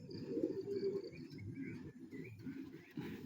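Pet racing pigeons cooing in their loft, soft repeated throaty coos close by with faint chirps and a quiet background, no talk.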